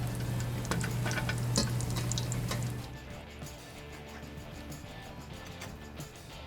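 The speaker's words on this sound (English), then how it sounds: "put enough heat on your pan and in your oil, and you will constantly work those pieces of mushroom" Pieces of mushroom fry in hot oil in a pan, giving a steady sizzle with crackles and pops that drops to a quieter simmering hiss partway through.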